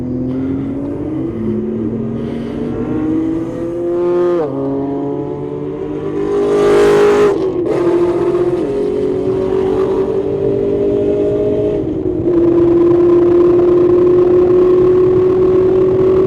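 A 4-door sedan race car on a track, its engine droning loudly and steadily, pitch rising through revs with gear changes and brief surges, heard close throughout.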